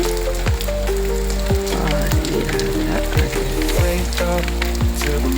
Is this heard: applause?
no